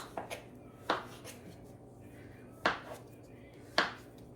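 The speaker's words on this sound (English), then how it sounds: "So we're just going to cut up the cinnamon rolls." A knife cuts through soft cinnamon rolls on a board, giving a few scattered soft thuds and chops with quiet pauses, close and fairly faint.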